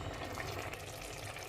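Juice is poured into a pot of rice while it is gently stirred, giving a faint, steady sizzle and liquid bubbling that stays soft and even throughout.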